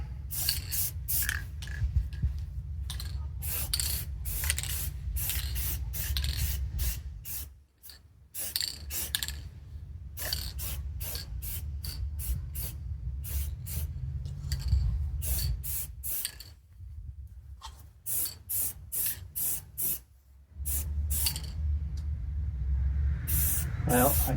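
Repeated short hissing bursts of aerosol spray paint coat a rifle outdoors on a warm day, close and fairly loud, stopping and starting in quick rhythm over a low steady rumble.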